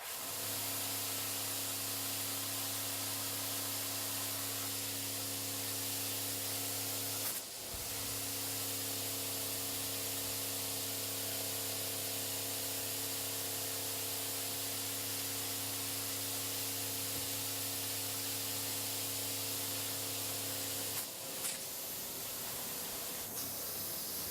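Agricultural sprayer nozzles hiss in a steady, even spray at a farming field day, with a constant tonal hum from equipment underneath and two brief interruptions where the flow cuts out and resumes, no speech.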